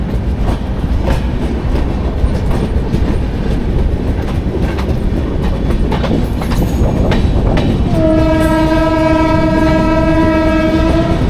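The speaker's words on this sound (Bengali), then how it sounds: "1 ঘন্টা লেটে এখন আমাদের ট্রেন এসে পৌঁছালো উড়িষ্যার জলেশ্বরে।" A 12822 Dhauli Superfast Express train arriving at Jaleswar station in Odisha rumbles loudly with rhythmic clacking of wheels, then its horn sounds a long, sustained blast near the end.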